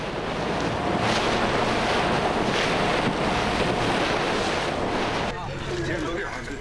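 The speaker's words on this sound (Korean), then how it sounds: "배는 요동치고 눈앞으로 파도가 덮쳐오는 험난한 뱃길" Winter seas off Ulleungdo batter a rocking boat, loud continuous roar of crashing waves and spray mixed with heavy wind buffeting the microphone, easing slightly near the end.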